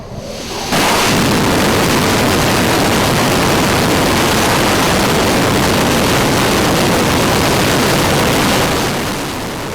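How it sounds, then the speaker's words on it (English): A single SpaceX Merlin rocket engine test firing starts abruptly with a loud, continuous, full-bodied roar that holds steady before easing slightly at the end. "We're gonna watch a Merlin engine. Just one of these."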